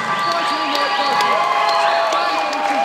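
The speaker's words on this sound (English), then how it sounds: "A big round of applause for both of these warriors." A fight-night crowd cheers and applauds two fighters after a bout, a dense continuous wash of claps, whoops and shouts close and loud, with a voice running over it.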